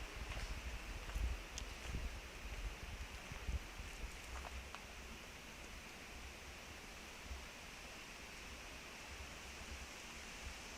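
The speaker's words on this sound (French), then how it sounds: "Il y a un peu de vent en plus, je sais pas si vous l'entendez là." Steady, soft rushing of wind through forest foliage at night, a continuous hiss with no voices and only faint occasional knocks.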